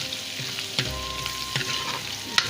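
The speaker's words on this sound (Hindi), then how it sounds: "ये मैं लहसुन अदरक का पेस्ट शामिल किया, इसको फ्राई कर रही हूँ।" Ginger garlic paste frying in a pan for black chickpea curry, a steady close sizzle with a few soft stirring scrapes and clinks running through.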